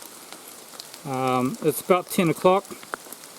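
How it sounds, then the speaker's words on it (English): Heavy rain pours down outdoors during a deer hunt, a faint steady hiss running beneath a voice speaking close to the microphone. "Absolutely pouring down with rain now."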